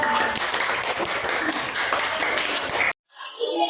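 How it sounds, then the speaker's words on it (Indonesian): A classroom full of people claps in a dense, continuous patter that cuts off abruptly near the end. "Tepuk tangan buat kelompok 3."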